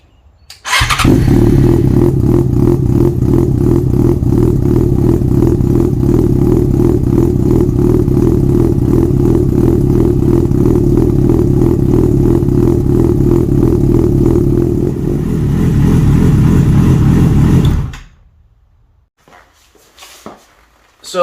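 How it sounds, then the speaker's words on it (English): A loud, raw Yamaha FZ6 Fazer motorcycle engine with its exhaust baffle removed fires up and runs with a harsh, rapid staccato idle, shifts pitch near the end, then cuts off abruptly into quiet. "It actually excites me, the sound of this little revvy engine."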